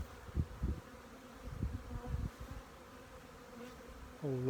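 A steady buzzing drone of many honey bees flying at their hives in November, with occasional louder bursts as individual insects pass close by; no talking.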